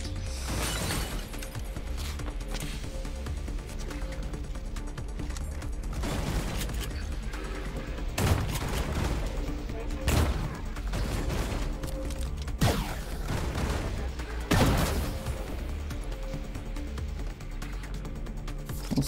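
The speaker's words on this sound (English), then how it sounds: "I'm getting shot at." Gunfire aimed at the player in System Shock, a dense mechanical clatter of shots with several sharper bursts standing out over a continuous busy game soundscape, with no talking.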